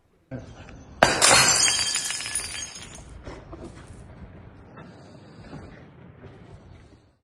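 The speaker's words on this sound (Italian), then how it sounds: "il rumore di una bottiglia rotta alza di nuovo la tensione" A glass bottle shatters loudly during a street brawl in a town centre, a sharp crash followed by scattering shards and crowd noise with voices under it.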